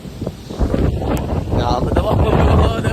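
Strong wind buffets the microphone in rough, roaring gusts, with a voice speaking faintly underneath; no distinct rain patter stands out.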